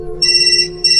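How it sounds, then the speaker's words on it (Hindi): A mobile phone on charge suddenly rings, a loud, close electronic ringtone with a steady low tone and two bright high bursts of beeping. "दिलीप अपने फोन को चार्ज पर लगाकर दरवाजे की तरफ आगे बढ़ ही रहा था कि चार्ज पर लगा उसका फोन अचानक से बज उठा।"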